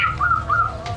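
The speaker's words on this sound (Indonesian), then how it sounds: "ini kok burung bunyi?" A zebra dove (perkutut) calling up close, three short clear whistled coos in quick succession over a low background hum.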